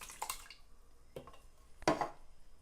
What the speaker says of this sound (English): I'm going to add the diced tomato,